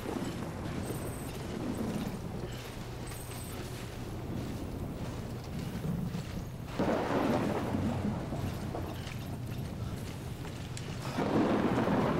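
Thunderstorm in the video game Death Stranding: a steady wash of rain and rolling rumble throughout, with two louder thunder swells breaking in near the middle and at the end.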